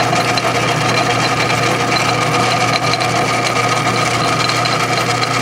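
A homemade water-cooled Briggs engine runs steadily at low speed, a continuous mechanical drone with a humming tone and rattling gear vibration throughout, loud and close with no pauses.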